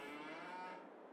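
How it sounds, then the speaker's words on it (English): A single dairy cow in Farming Simulator 22 lets out one short, low moo, quiet and slightly distant, followed by a brief click. "We have 45 milk cows now."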